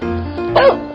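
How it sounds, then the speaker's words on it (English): A dog gives a single short, loud bark in a 3D animal slide game, rising briefly above steady background game music. "Dog."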